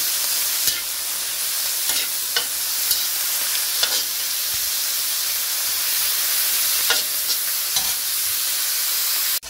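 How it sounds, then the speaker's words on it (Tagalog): Bihon noodles with shrimp and fish balls stirred in a hot pan, a continuous bright sizzle broken by a few sharp utensil scrapes at intervals, no one speaking. "Yan, kailangan natin siyang haluin na mabuti."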